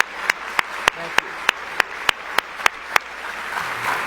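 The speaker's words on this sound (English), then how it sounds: "could we have a round of applause for everyone who's worked so hard in the room tonight?" Applause from the audience at the 2023 Indianapolis Prize gala, a soft, diffuse wash of distant clapping with sharp, evenly spaced clicks cutting through it, swelling slightly toward the end.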